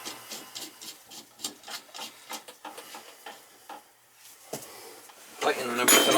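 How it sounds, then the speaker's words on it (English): Spud wrench tightening the chrome fittings of a Sloan toilet flushometer during replacement, a run of close, rhythmic rasping and rubbing strokes, followed by a louder, denser burst of scraping near the end. "Tightening everything up using the spud wrench so you don't ruin the chrome"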